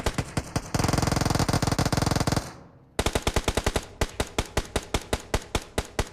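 Automatic gunfire in the mobile battle-royale game PUBG Mobile: loud, rapid repeated bursts of shots, a dense sustained volley followed by evenly spaced single shots, with no talk over it.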